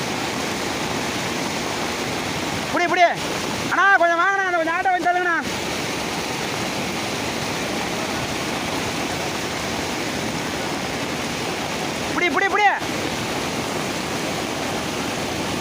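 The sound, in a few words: floodwater rushing over a village road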